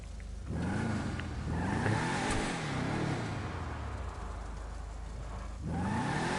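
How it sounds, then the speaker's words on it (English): A Hotring race car engine in Grand Theft Auto Online revs repeatedly, its pitch swelling up and falling back in several loud, close pulls over a steady idle. "That's one amazing ass fucking rev."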